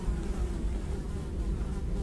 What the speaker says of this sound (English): we hear some buzzing flies